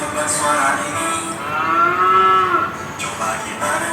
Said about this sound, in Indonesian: Itu suara sapi.